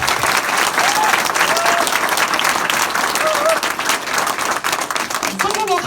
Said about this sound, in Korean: 오늘부터 딱 결단하시고 1년만 집중하실 분만 박수 치세요.